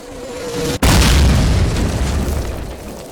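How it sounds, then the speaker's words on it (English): A mortar explosion in the World War II video game Call of Duty lands with one sudden, loud, close boom, followed by a long rumbling, crackling decay that fades slowly. "Mortars! Incoming! Mortars incoming!"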